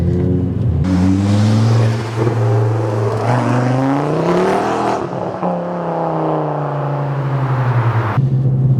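The 2.5-litre five-cylinder engine of a tuned Ford Focus ST 225 revving hard, its loud warbling note climbing through the gears with a brief dip at a shift, then settling into a steady drone; no one speaks.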